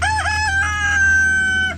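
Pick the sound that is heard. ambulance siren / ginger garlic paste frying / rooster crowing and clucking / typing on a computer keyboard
rooster crowing and clucking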